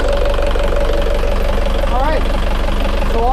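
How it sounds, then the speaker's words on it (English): The diesel engine on a Leopard 46 catamaran runs at a steady idle, a loud rhythmic low knocking throb close up, while someone speaks over it. "engine's running good"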